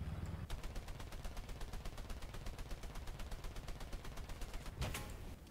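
Rapid machine-gun fire aimed at L3 tankettes in War Thunder, a long even stream of sharp shots at a fast steady rhythm, with a louder blast near the end.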